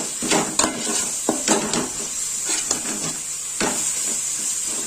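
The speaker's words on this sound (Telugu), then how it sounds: "ఈ ధనియాల పొడి కూడా ఒకసారి కలుపుకుందాం" Coriander powder being stirred into chicken in a metal pot for chicken roast biryani: a spoon scrapes and clinks against the pot in an irregular rhythm over a steady, close sizzling hiss, with no talking.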